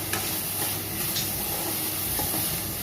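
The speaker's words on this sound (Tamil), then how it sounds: "இப்போ இதை நம்ம கொஞ்சம் நல்லா வதக்கி எடுத்துக்கலாம்." Vegetables being stirred and sautéed in a pan for egg fried rice, giving a steady soft sizzle and hiss with scraping stir noises throughout, no voices.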